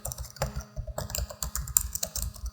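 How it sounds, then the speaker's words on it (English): Quick, uneven clatter of keys on a computer keyboard as a search phrase is typed into a browser, close and fairly quiet with no voices. "now I'm going to go here and I'm going to type in plastic"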